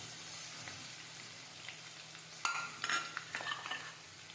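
Crushed garlic and grated ginger fry in a pan for an eggplant bharta, a quiet sizzle that grows busier after a sharp clatter, with spoon scrapes and faint pan knocks.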